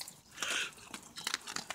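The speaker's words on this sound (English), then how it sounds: "Please excuse the dog crunching sounds in the background." Dogs crunch dry food at breakfast, with several irregular crisp bites and chewing bursts heard close and fairly quiet against a still room, no talking.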